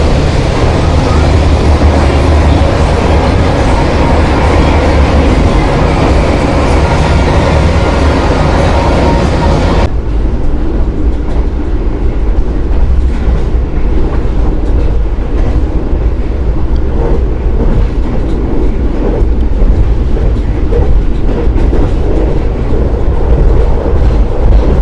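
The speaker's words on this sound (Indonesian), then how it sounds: "kereta api Wijaya Kusuma telah tiba di stasiun Klaten" The Wijayakusuma economy premium passenger train pulls into Klaten station in Java, a loud continuous rumble and rolling roar that drops to a lower, muffled drone partway through.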